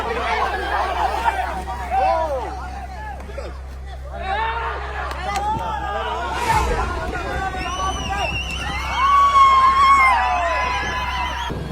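A crowd cheers and shouts with joy outdoors in Jaffna as a giant kite over 37 feet long is hauled up into the sky, a dense babble of many voices rising and falling, with a few high whoops standing out.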